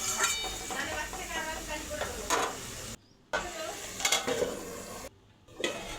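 Vegetables cooking with a little water in a pot are stirred, giving a soft sizzle with scraping and clinking of the spoon against the pot, twice cut off by brief silent gaps.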